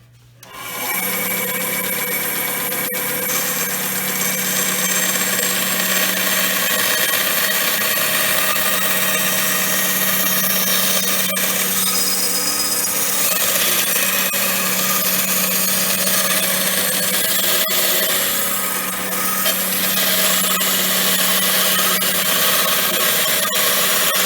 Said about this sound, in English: cut out some very thin plywood in this shape